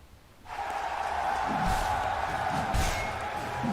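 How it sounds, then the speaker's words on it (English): Esports crowd at a Dota 2 tournament, The International 10, breaking into loud cheering and whoops that swell after a quiet start and stay sustained, with a voice briefly heard beneath. "I said Arteezy and the crowd goes wild."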